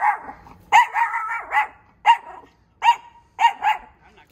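A dog in a harness barks in loud, sharp bursts, a long run of barks followed by single barks spaced out over several seconds, close by with no talk.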